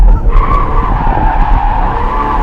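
A car drifts with its tires skidding in a loud, sustained squeal over a roaring engine, close by and continuous.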